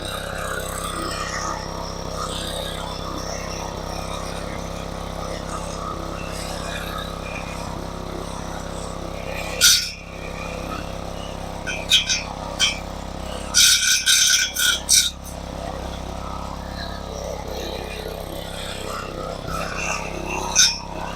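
An old power edger/trencher engine left sitting for years runs with a steady, rattling small-engine drone, punctuated by louder clattering and scraping bursts midway, close and continuous.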